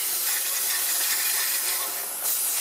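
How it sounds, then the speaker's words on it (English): An aerosol can of Gun Scrubber cleaner sprays onto AR12 shotgun parts in one continuous, close, loud hiss that lasts a couple of seconds with no talk. "Spray gun scrubber into the barrel and spray the upper and lower."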